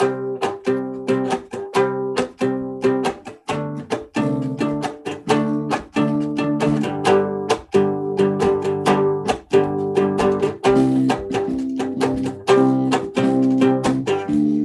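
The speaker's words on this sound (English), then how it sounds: "I really struggle to do the muted strums slow." Slow, muted strums on a three-string cigar box guitar, each a short percussive chop with a brief ringing tone, played in a steady, unhurried rhythm.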